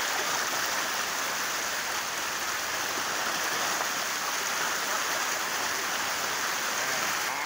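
Minnehaha Creek in Minnesota on a summer day, flowing just above the falls: a steady, loud, unbroken rush of water with no voices over it.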